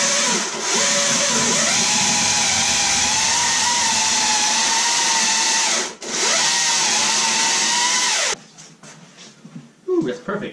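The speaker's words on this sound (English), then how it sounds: "Power tools." A loud power tool whines steadily, its pitch dipping as it bites into oak while shaping a wooden mallet, pausing once, then cutting off before some clattering.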